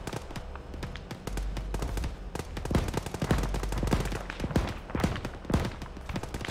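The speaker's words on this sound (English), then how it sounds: "Start engaging with HE." An armored vehicle in ARMA 3 fires HE rounds in rapid, repeated bursts, loud and close, with heavy low booms over a continuous engine rumble.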